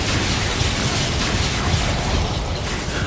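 A Confringo explosive spell goes off in Hogwarts Legacy during a goblin battle, a dense, loud rumbling blast with crackling mechanical clatter sustained throughout, no voice present.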